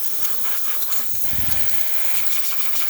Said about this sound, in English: Nice pressure coming out from the steamer one.